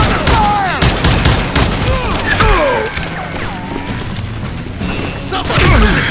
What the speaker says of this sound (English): Who's shooting at you? We're under fire!